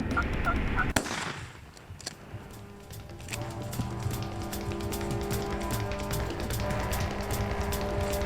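Wild turkey gobbling outdoors in the spring woods during a hunt, a series of rapid rattling calls repeating through the clip against steady ambient background noise, with a sharp impact near the start.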